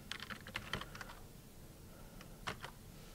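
Quiet, close keystrokes on a computer keyboard come in a quick cluster of taps, pause briefly, then resume with a few more presses while typing command-line input.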